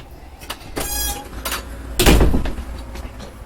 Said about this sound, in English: you've got a little sliding pocket door right here so you can completely isolate the bathroom